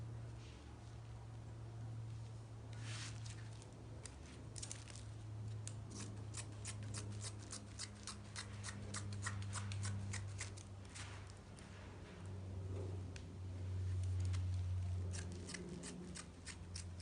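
Scissors cutting fabric for a homemade scrunchie, a run of quick crisp snips and rustles, close but faint over a low steady background hum.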